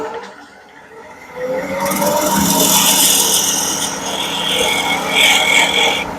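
A small spindle gouge turns wood on a lathe, rounding over a bead on an antique-style pepper grinder, giving a steady close scraping rasp that swells after a quieter start and continues without talk.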